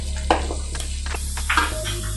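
Garlic sautéing in hot oil in a pan for Kerala-style beef pickle, a steady close sizzle with a few brief stirring scrapes over about two seconds, no talking.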